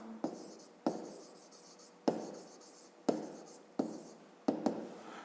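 Numbers are written by hand on paper, with six quiet scratchy pen strokes that start sharply and come at irregular intervals, close and alone.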